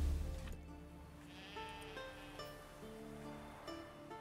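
Sheep bleating in The Witcher 3: Wild Hunt, several wavering bleats overlapping one another over a soft ambient wash, fairly close and clear with no talk.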